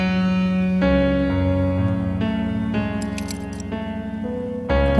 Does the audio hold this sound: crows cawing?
no